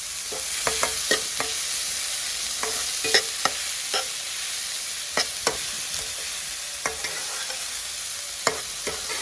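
Bitter gourd frying in a pan for a vegetarian dish, a continuous bright sizzle close up with scattered crisp pops and spatters throughout, no voices.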